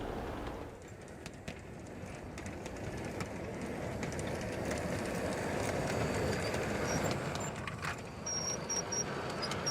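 A garden-scale model train rumbles steadily along its track outdoors, a continuous mechanical clatter with birds chirping faintly in the background.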